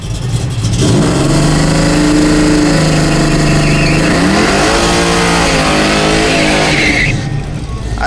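A drag race car at a drag strip revs its engine hard and steadily while creeping into the staging beams on its back tires, the loud sustained roar rising and falling in pitch, close up, with faint talk in the background.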